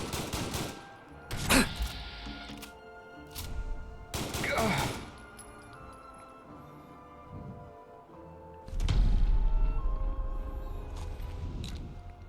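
Bursts of gunfire from a firefight in the video game Fallout London, several separate volleys of shots spread across the scene, loud and close, with other game sounds and a voice talking between them.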